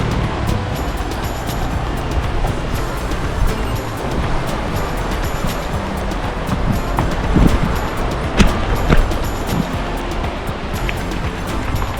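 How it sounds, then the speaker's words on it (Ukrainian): The Mokrianka river runs near Kolochava on a mountain cycling route, a loud, continuous broadband rush of flowing water with a few brief louder surges and no talking. "Річка Мокрянка ось так."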